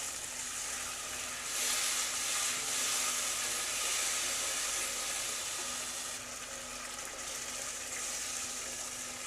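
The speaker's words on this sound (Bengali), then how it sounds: "জল অ্যাড করে দিয়েছি" Water poured into fried masala for paneer gravy, producing a steady loud hiss and sizzle with bubbling, close and continuous throughout.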